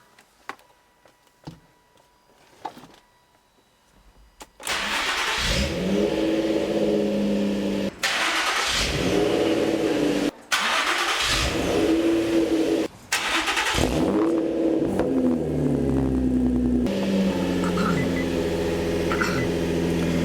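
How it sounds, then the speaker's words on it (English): A 2005 Infiniti G35 on a cold start cranks and fires after a few quiet seconds, then settles into a steady, close idle, with brief dropouts in the sound. "let's go ahead and fire the G up."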